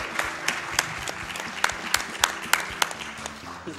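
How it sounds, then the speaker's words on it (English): A small group claps steadily at the Awesome Games Done Quick 2016 speedrun event, with crisp individual claps standing out over a low background murmur, moderately near. "applaud that"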